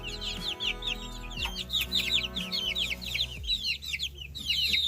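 Young free-range chickens cluck and cheep through the whole stretch in a busy, overlapping chorus, close by, over a low steady hum.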